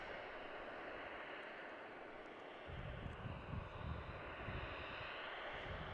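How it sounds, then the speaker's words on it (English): A Silkway West Airlines cargo plane on flight 9790 from Liège rumbles at Chicago O'Hare International Airport, a steady distant roar that thickens into deeper low rumbling midway, with no voices. "you're currently looking at Silkway West Airlines, flight 9790 from Liège"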